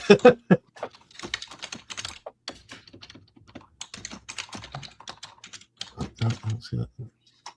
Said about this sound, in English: There's some typing going on.